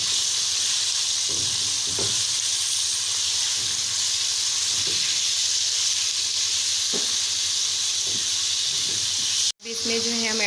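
Small pieces of boneless chicken fry in a pan with a loud, constant sizzle and hiss. Occasional faint scrapes and pops sound up close, and the sizzle drops out briefly near the end.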